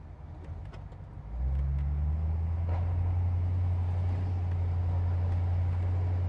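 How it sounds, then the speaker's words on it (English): A 1956 Ford Fairlane Victoria engine idles with a low, steady rumble, then catches and settles into a loud, continuous deep drone close by. "That engine sound is magnificent."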